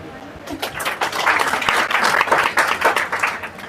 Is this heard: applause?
yes